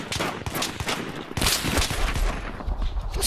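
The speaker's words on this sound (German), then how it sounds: "Der hat sicherlich 10-mal geschossen." Rapid bursts of MAC gunfire in Battlefield 3 multiplayer, sharp repeated shots crackling in quick clusters with a louder, denser volley midway, loud and close with no talk.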